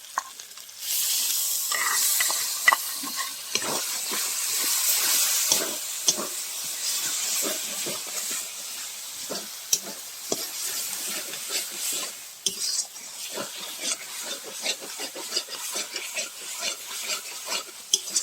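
Spices with Kashmiri chili powder and onion paste stir-fried in hot oil for a mutton curry: a steady, loud hiss of sizzling runs throughout, broken by frequent close scraping strokes of the stirring spoon, with no voices.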